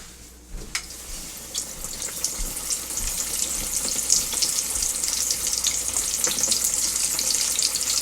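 Oil sizzles and crackles steadily as chicken thighs fry, starting with a splash of bubbling and continuing at an even, close hiss.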